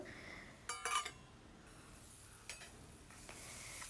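Onions and tomato pieces fry in a curry pan with a faint, steady sizzle, broken by a few sharp metallic clinks and stirring scrapes from a utensil.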